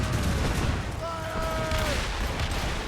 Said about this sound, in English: They're firing a volley! Incoming fire!